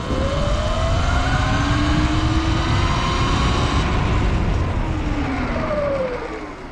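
A Surron Light Bee X electric motorbike launches in its gentler EP mode, its motor whine rising in pitch over strong wind rush and then easing off and fading near the end.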